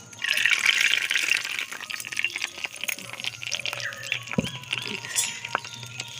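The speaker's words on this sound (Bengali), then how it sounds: "ঢেলে দেব তরকাটা" Vegetable curry pours from a pot into a dish, a brief wet gush mixed with the clink of metal on the vessel, close and moderately loud with no talking.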